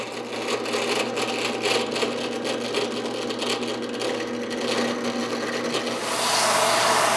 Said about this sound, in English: I will drill those marker dots with a 3/32 inch diameter drill bit.